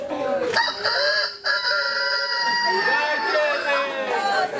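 A voice imitates a rooster crowing with long, wavering, high-pitched calls that hold steady, loud and close, with a crowd chattering around it at a street children's charity event.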